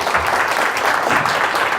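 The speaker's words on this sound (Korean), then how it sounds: "정 박사님 다시 한번 큰 박수를 모시겠습니다" An audience at a New Year book talk on mobility applauds Dr. Jeong, giving dense, steady clapping that is loud and close throughout, with no voices over it.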